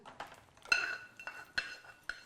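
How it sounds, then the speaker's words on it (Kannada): Tempering is added to chutney made from chayote peel in a home kitchen, heard as a few sharp metallic clinks and scrapes of a spoon against a pan, spaced out over a quiet background. "ಒಗ್ಗರಣೆ ಹಾಕ್ತೀನಿ"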